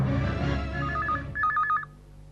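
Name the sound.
telephone ringing for an incoming call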